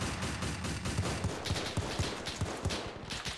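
Rapid bursts of gunfire from a WW2 battle in ARMA 3 with the Iron Front mod, a steady run of sharp shots and short volleys at mid distance, with no talk.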